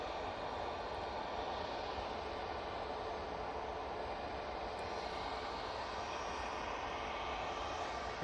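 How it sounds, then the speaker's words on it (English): Ryanair Boeing 737 arriving from Dublin at Manchester Airport, a steady distant jet engine roar holding evenly throughout with no speech. "Next in, we do have a Ryanair 737. It's coming in from Dublin."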